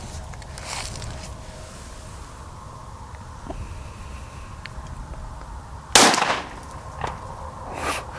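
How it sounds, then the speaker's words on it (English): A used compact handgun, comparable to a Glock 26 or 27, fires a few sharp shots outdoors: one loud crack stands out, with fainter reports before and after it. "First shots."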